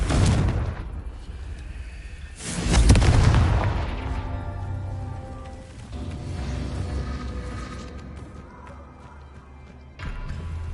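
Fire spell blasts in a video game, a few loud booming explosions spaced seconds apart, each with a sharp hit and rumbling decay, separated by quieter ambient stretches.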